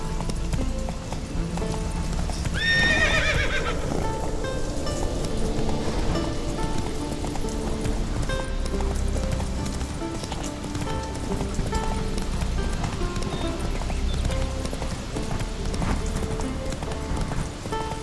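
Hooves of a horse clip-clop steadily through a fantasy video game world in The Witcher 3, a continuous rhythmic beat under music and ambient texture, with brief voice over the top.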